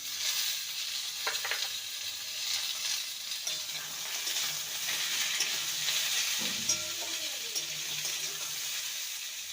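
Pumpkin-stem greens, eggplant and jackfruit seeds stirred in a frying pan give a steady sizzle throughout, broken by a few scraping strokes of the spatula, with no talking.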